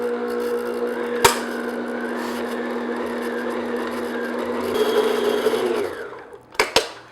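An electric mixer on low speed beats flour into chocolate whoopie pie batter in a bowl, giving a steady close motor hum that rises slightly before cutting off, followed by a couple of sharp taps.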